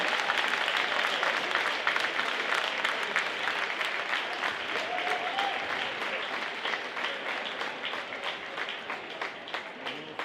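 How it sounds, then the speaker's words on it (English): A large crowd applauds at a school spring pep rally in a gym, steady, fairly distant clapping that slowly thins toward the end. "let's give all of these boys and girls a huge round of applause"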